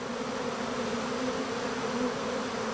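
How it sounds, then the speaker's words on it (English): A honeybee swarm pouring out of a small hive gives a dense, continuous buzzing hum, steady and fairly close, with no voices over it. "If anyone ever wondered what a swarm looks like issuing from a hive, this is it."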